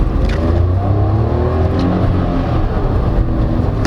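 A 2024 Suzuki Celerio AGS hatchback accelerating in manual mode, its small engine droning loudly and rising steadily in pitch as it pulls, heard from inside the cabin.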